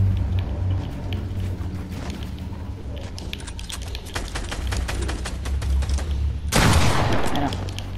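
Shotgun fire in a video game: sharp shots crack in quick succession over a low rumbling bed, then a louder, heavier blast bursts out near the end.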